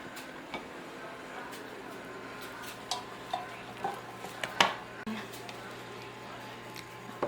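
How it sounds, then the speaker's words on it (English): Brown bread mixture being spooned into baking tins, a series of faint scraping knocks and clinks of a spoon against a pan in a quiet kitchen, irregular and soft, with a person talking. "Spoon your mixture into your pan."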